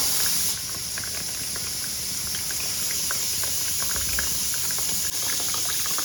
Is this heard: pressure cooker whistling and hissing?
yes